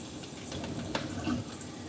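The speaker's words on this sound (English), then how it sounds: "I'm going to rinse them and then plop them in the pot of boiling water" Tap water running into a sink as raw chicken thighs are rinsed for soup, a soft, steady splashing flow with a few brief louder spatters.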